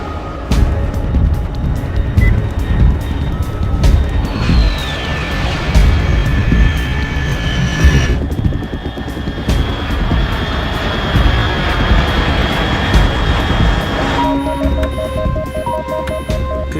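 An aircraft engine in Metal Gear Solid 3 drones loudly and continuously, a broad rushing roar with a high, steady whine that shifts pitch partway through, with no voices.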